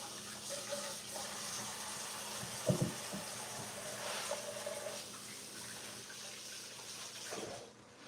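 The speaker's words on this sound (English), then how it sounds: "Let me wash my hands" Tap water running steadily into a kitchen sink during hand washing, a soft continuous splashing hiss with brief swells, fairly faint and with no talking.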